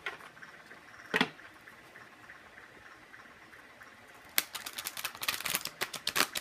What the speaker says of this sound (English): so let's continue shuffling